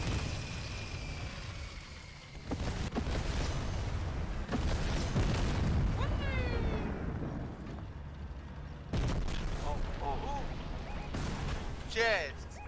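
Explosions and gunfire in the video game Fortnite, chapter 3 season 2, with a tank in play: repeated loud booms and bursts of fire over several seconds, layered with a player's excited shouting.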